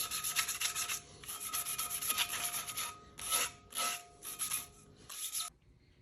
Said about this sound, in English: sand that off in those spots